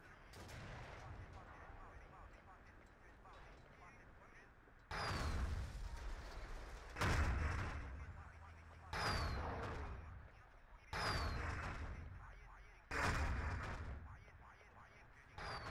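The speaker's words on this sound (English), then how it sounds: "Artillery towards the center" Artillery fire in Battlefield 2 conquest play: five heavy booming impacts arrive about every two seconds, each a loud burst that decays, with quiet game ambience between.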